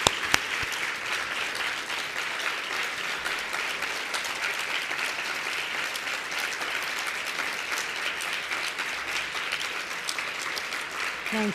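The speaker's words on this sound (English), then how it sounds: "join me in applauding her life" An audience applauds in tribute to Chris Brunswick at the inaugural National Breast Cancer Coalition Advocate Leadership Summit, with dense, even clapping that holds steady and sustained throughout, a single occasional louder clap rising above the crowd.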